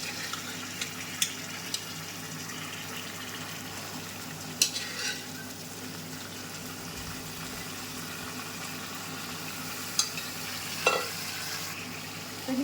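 Chicken sukka being stirred and mixed in a pan, a low steady sizzle with occasional sharp scrapes and clinks of the spoon against the pan, close and fairly quiet throughout.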